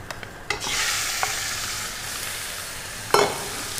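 Ground beef sizzles hard in a very hot pan over a strong flame, a steady bright hiss broken by a few sharp clinks and scrapes of stirring, close and without talk.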